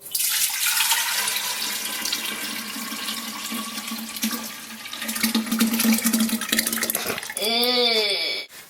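Water poured into a jug of homemade tamarind agua fresca, a continuous splashing pour that runs for several seconds, ending with a brief bubbling, gurgling burst.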